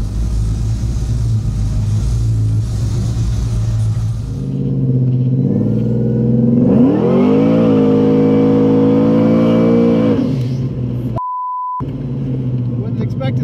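Turbocharged 482ci Chevrolet Nova drag car with stainless exhaust roars loudly as it accelerates, engine rising through a sustained high-rpm pull before dropping off, with a short steady tone near the end.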